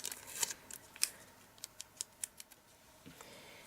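Scissors snipping off excess sticky tape on a craft piece, a close series of sharp crisp clicks, first a quick cluster and then about five evenly spaced cuts, quiet and alone.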